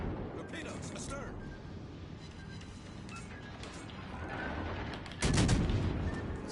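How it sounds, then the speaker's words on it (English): Naval gunfire from a Japanese IJN cruiser in the World of Warships Legends console game, with rumbling cannon booms through a dense battle backdrop and a loud, heavy salvo crashing in near the end. "you need to be shooting AP whenever you got broadside shots like this"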